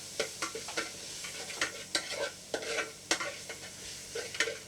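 Onion, tomato slices and fresh curry leaves sauté in a pan at a Kumarakom houseboat, with a soft sizzle under repeated scraping strokes as they are stirred.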